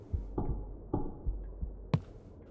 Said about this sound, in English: I also heard like heartbeats just come out of nowhere